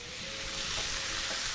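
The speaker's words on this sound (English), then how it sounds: "we're going to continue frying our meat on the pan, making sure to completely cook down the fat" Meat for a samosa filling fries in a pan as its fat cooks down, giving a steady, close sizzle with soft stirring scrapes throughout.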